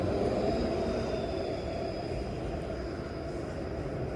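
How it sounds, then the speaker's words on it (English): A Kingston Road streetcar rolls past on a Toronto street, a steady close rumble of rail noise with a faint high whine, holding constant throughout with no voices. "And here's the Kingston Road streetcar."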